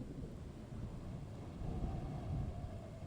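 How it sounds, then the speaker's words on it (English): Wind blows in the Sorcery! video game, a low, steady rushing roar that swells slightly midway, faint and alone without talk. "See how windy it is here?"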